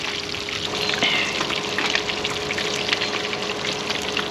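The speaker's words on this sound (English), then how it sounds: "that's how you know when the fish fry good" Red snapper fries in hot oil, a loud, close, steady crackling sizzle that holds evenly throughout without voices.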